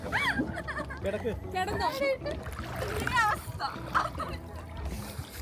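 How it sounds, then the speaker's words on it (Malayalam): A person in a life jacket jumps into the sea while kayaking at Newberry Beach in Cornwall, making a splash under steady, overlapping chatter from several voices, including children. "ഞാൻ ആദ്യമായിട്ട് ലൈഫ് ജാക്കറ്റ് ഇട്ട് വെള്ളത്തിൽ ചാടുന്നു."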